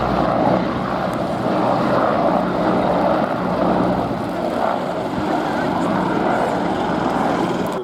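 Westland Wasp helicopter flying at the Shuttleworth Fly Navy airshow, its rotor and turbine making a continuous loud drone that holds steady from start to finish.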